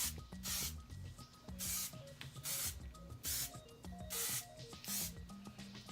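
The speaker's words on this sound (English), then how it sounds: "And then I'm just going to take a little bit of hairspray." It's a 10 Miracle Whip finishing hairspray hisses out in about six quick, evenly spaced bursts close to the mic, over soft background music.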